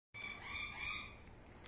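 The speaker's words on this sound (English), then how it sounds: "Oh, there's birds" Birds chirp and call outdoors in a steady, fairly close chorus of bright tweets, with no talking over them.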